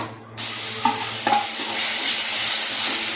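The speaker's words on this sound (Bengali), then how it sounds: "পটলের বীজটা আমার ভাজা ভাজা হয়ে গেছে" Ground pointed gourd seed paste sizzles loudly in hot oil with whole spices, a dense steady frying hiss that starts abruptly, with a couple of spatula scrapes and stirs close by.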